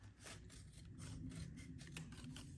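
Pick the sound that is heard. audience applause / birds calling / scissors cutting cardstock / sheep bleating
scissors cutting cardstock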